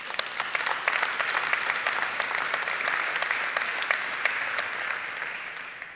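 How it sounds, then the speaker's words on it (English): Audience applause at a 2017 award ceremony, greeting a recipient joining remotely by video call: steady, dense clapping from a large room, sustained and even throughout with no speech over it. "So here's your applause, first of all."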